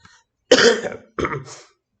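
Two harsh coughs from a person with a cold, one after another with a short pause between, close and fairly loud against silence.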